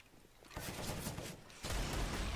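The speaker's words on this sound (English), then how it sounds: "we throw a normal nade" A grenade is thrown and explodes in an online shooter video game, a faint crackling, bursting blast with a deeper low boom rising near the end, heard alone without talk.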